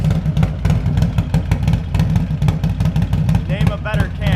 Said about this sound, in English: This bike chops so freaking hard, especially with the new 128